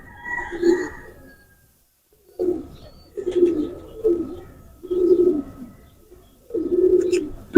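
Teddy pigeon chicks coo in a string of low, soft, throaty bursts, five or six separate calls with short pauses between them, close and clear.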